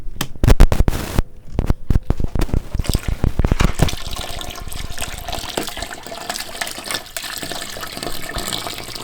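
Tap water filling a boat's sink for an apple cider vinegar soak: a few sharp knocks and clatters at first, then a steady, loud rush of running water that continues to the end.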